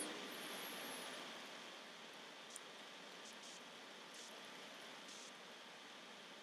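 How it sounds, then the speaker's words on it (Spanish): Rain falling in the desert, a steady soft hiss of light rainfall that stays even and fairly quiet throughout, with no other sounds. "una rara lluvia"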